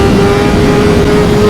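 A motorcycle engine runs loud and steady close by while riding, a continuous drone with a sustained tone and no voices.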